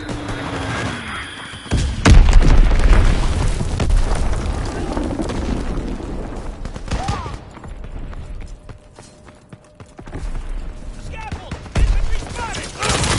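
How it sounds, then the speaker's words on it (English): In a PS4 video game, an enemy bomb goes off with a loud booming blast amid ongoing battle rumble and gunfire. Shouted in-game voices run over the din. "Enemy bomb incoming!"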